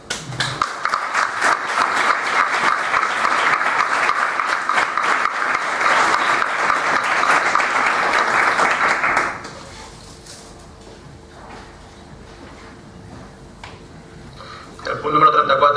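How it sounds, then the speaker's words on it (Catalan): Applause fills a town council plenary session in Canals, dense and steady for about nine seconds before dropping to quiet murmuring, with a louder burst at the very end. "crec que hauríem fer un aplaudiment per"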